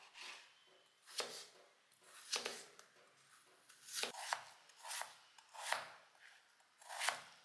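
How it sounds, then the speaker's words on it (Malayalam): Vegetables being chopped on a cutting board for a vegetable curry served with chapati, a series of crisp knife strikes arriving roughly every half second to second, fairly close, with no talking. "ഇനിയിപ്പോൾ ഇത് നുറുക്കാം."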